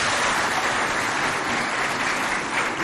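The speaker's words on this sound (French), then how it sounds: "On les applaudit." Students and spectators at a school quiz competition in Moundou break into steady, loud applause, a dense wash of clapping that holds evenly throughout without a break.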